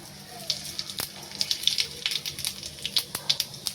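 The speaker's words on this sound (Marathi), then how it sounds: "कढईमध्ये तेल गरम झालंय, आता मी थोडं जिरं टाकते बस." Cumin seeds crackle and sizzle in hot oil in a wok (kadhai) for a village greens dish, a steady near run of sharp pops and hiss, moderately quiet, with no talk over it.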